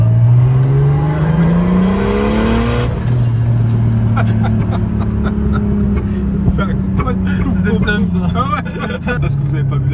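A turbocharged BMW E36 engine revving hard, loud and close, with a rising pitch that drops and then climbs again as the turbo spools. Voices talk over it.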